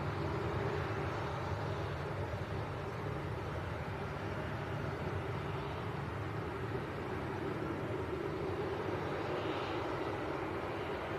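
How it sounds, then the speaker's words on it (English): A Boeing 737-300 departs Leeds Bradford Airport for Malaga, giving a continuous, fairly distant engine roar that holds steady throughout with no speech. "So we're going to have back-to-back 737-300 departures. First one's to Malaga"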